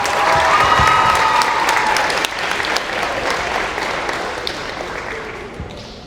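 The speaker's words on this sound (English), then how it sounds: "Let's give it for Olivia" Audience at a senior night ceremony gives loud, sustained clapping and cheering that gradually thins out toward the end.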